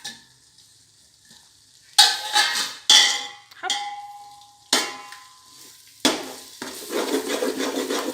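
Chopped coriander and mint sizzling in a pot for chicken biryani, with repeated scraping and clanging of a stirring spoon against the metal in bursts over loud, steady frying, close up and with no talking.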